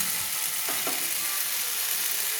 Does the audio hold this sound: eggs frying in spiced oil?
yes